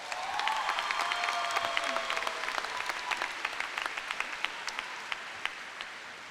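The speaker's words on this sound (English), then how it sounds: "Give yourselves a round of applause." Graduates and guests applauding at a college commencement ceremony, a broad crowd of clapping with some cheering that swells early and slowly tapers into scattered, distinct claps.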